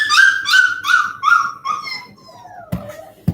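A mother dog and her puppies whimper and cry close by in a rising and falling series of high whines, ending with a couple of sharp yips or knocks.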